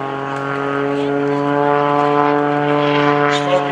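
Propeller airplane flying with smoke on at the Greenwood Lake airshow, a steady droning engine hum with strong harmonic tones, loud and continuous throughout.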